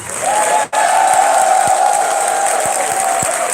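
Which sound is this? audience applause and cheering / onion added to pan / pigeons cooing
audience applause and cheering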